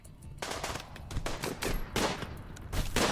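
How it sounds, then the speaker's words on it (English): Rapid bursts of gunfire from colonists shooting in RimWorld, with repeated overlapping shots and volleys running loud and dense throughout, no voices. "Who are you firing at? Let's have you fire at Corin."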